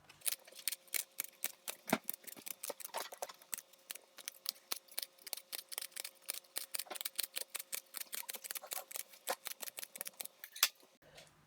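Scissors snip through a feather quill to shape a pen nib, making dozens of crisp, rapid cuts in a steady run for about eleven seconds, close and clear in a quiet room.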